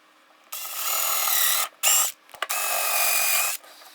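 A power drill whines steadily through wood in two long bursts, with a short burst between them, close by and loud.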